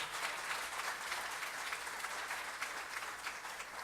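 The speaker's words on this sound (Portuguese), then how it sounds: "Então dê um aplauso a Jesus" Church congregation applauding Jesus at a Portuguese-language service, a steady wash of many hands clapping at once, sustained and even but distant and soft throughout.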